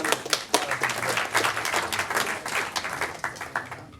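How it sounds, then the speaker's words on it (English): An audience applauds a keynote speaker at a startup event: a brisk, fairly close round of clapping with rippling bursts that continues steadily and thins out at the very end. "Another round of applause"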